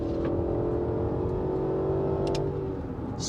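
A car engine hums steadily and close, holding a smooth drone as it pulls ahead, with a few faint ticks on top.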